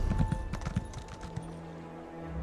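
Horse hooves clip-clop steadily in The Elder Scrolls Online: Morrowind, a brisk rhythmic trot at moderate distance over soft ambient game background.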